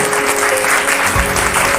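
An audience at a Govindpuri community gathering for a Man Ki Baat listening session claps loudly to welcome guests, a brief, close, dense burst of applause with no talk over it.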